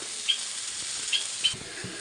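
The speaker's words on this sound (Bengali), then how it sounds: "দেখো ঝোলটা ফুটে উঠেছে" Hilsa fish and eggplant curry coming to a boil in a pan, giving off a steady close hiss and sizzle with a few small pops and bubbles.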